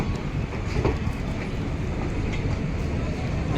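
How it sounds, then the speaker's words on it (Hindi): Mahamana Express pulling out of New Delhi railway station on its run to Varanasi, a steady, continuous low rumble of rolling wagons filling the whole stretch at moderate loudness with no pauses. "नई दिल्ली रेलवे स्टेशन से हमारी ट्रेन का भी हो चुका है डिपार्चर"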